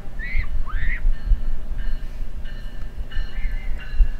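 A Metrolink train rolls through Fullerton station with loud rumbling wheels and high squealing tones over steady rail noise, close by.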